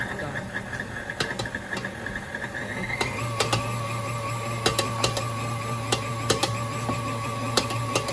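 Stand mixer fitted with a paddle beating sticky concha dough, a steady motor hum with a rhythmic mechanical drone and repeated sharp knocks as the paddle slaps the dough, close and continuous, getting a bit heavier partway through.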